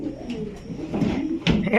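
A rare, unique female pigeon coos close by, giving several throaty, rolling coos that swell and pause, the last bursts loudest.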